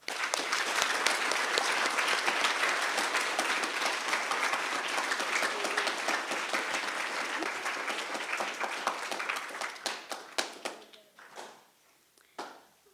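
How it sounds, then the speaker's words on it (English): Sustained audience applause at a National Junior Honor Society induction ceremony, a dense steady clatter of many hands that thins into a few scattered final claps near the end. "Please join me in thanking them with a round of applause."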